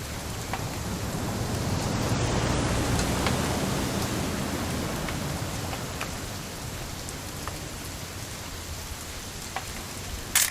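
Steady rain falling in the video game What Remains of Edith Finch, a dense, even hiss of drops that swells slightly and then holds, with a few faint ticks of individual drops.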